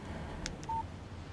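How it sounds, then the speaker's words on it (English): Text message alert from a phone in the video game Alan Wake, a short electronic tone heard once, clear and fairly close, followed by a brief steady beep, with no talking over it. "Text message from Barry"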